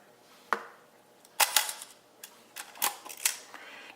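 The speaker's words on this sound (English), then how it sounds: "If we check the shutter, since it's an all mechanical shutter, we don't need any battery to change that." Nikon F film camera firing its all-mechanical shutter at various speeds, a series of sharp close clicks and snaps, a single one first, then clustered pairs and scattered releases.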